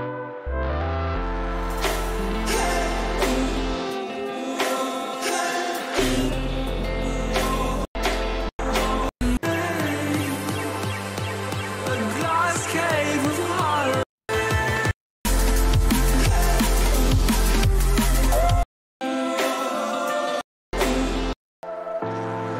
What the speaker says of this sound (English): the way you make a synth sound like this is by using actually analog